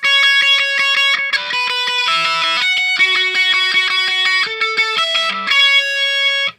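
A bright electric guitar lead runs through a budget pedal board with a filter, playing a steady line of sustained distorted notes up close, with no talk.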